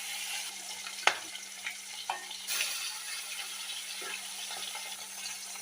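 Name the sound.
fish frying one by one in hot mustard oil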